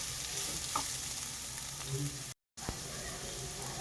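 Tomato and Kashmiri red chilli paste sizzles steadily in a pan while being stirred for a paneer capsicum masala, with a continuous frying hiss, a few scraping stir strokes and a brief dropout midway.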